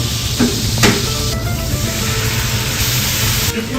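Rabbit pieces frying in a paella pan over high heat for paella valenciana, a steady close sizzle with occasional stirring and scraping knocks.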